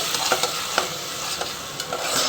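Spices frying on low heat in a pan, a steady soft sizzle with light stirring scrapes now and then, close and quiet.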